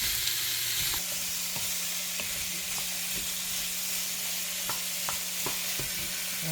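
Mixed vegetables sizzle and fry in a pan for coconut curry chickpeas, with a steady close hiss and occasional stirring scrapes and clicks throughout.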